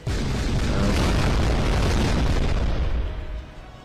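Area strike explosion in the artillery video game ShellShock Live 2, a loud, dense, booming blast that roars for about three seconds before tapering off, with no talk over it.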